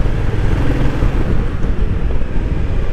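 A motorcycle riding toward the highway produces a loud, steady rumble mixed with rushing wind buffeting the microphone, constant and close throughout.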